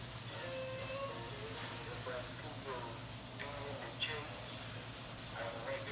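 Pork sizzling and hissing on a grill after being flipped and seared, Worcestershire sauce on the meat, a steady broad hiss running close and continuous throughout with faint background sounds.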